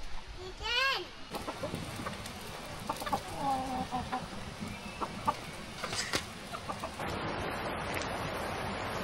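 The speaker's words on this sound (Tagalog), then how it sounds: "Chicken." Chickens cluck nearby at a rural campsite in Quezon, with several short clucking calls over outdoor ambience, and people talk quietly in the background.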